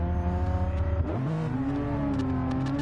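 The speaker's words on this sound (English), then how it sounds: "Revs are up." Race car engines rev at the start of a Gran Turismo Gr.4 race in a racing video game, a loud, harmonic engine drone that drops, then climbs sharply as the revs rise, with no voices.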